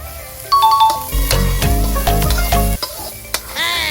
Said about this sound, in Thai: ใส่พริกลงไป คั่วให้มันหอม